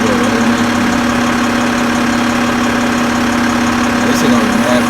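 A car engine idles with a steady mid-pitched hum and a constant drone, close and loud, while people talk nearby.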